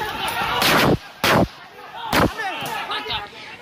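Police fire several loud gunshots during a raid on a gambling and drug site in Deli Serdang, North Sumatra. The shots come as sharp, separate bangs spread over a few seconds, with voices in between.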